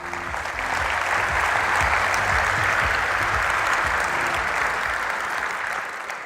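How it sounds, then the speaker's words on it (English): Conference audience applauding during an opening ceremony, a dense, even wash of clapping from a large crowd that holds steady and then fades slightly at the end. "Please welcome with a big round of applause."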